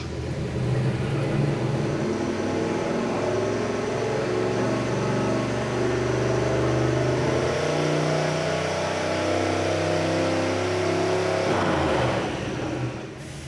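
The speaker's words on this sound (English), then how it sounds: "it's time to make our first dyno pull" Mazda engine in a Maserati, turbocharged and running E85, held at a steady loud drone through a long dyno pull, then cutting back near the end.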